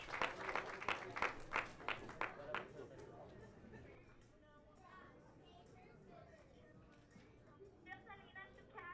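Crowd applause and cheering at a fight weigh-in: a burst of loud, distinct claps at the start fades into a murmuring crowd, with a hall announcer's voice carrying over the noise and scattered claps returning near the end.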